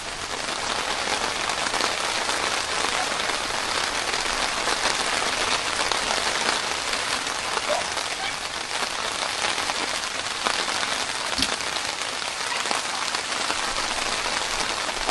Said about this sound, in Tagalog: Actually, muulan na. Lakas na ng ulan.